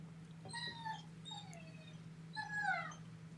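A dog whimpers and whines in thin, wavering high cries, three or four plaintive bursts, close but soft over a steady low hum.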